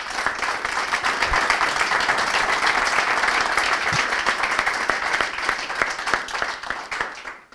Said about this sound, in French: je crois qu'on peut applaudir aussi largement Mika